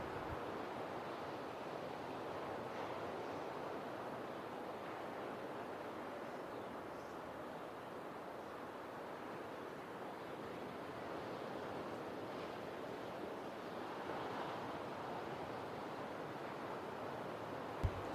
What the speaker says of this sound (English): This is some of the biggest surf I've ever seen for an event here at Lower Point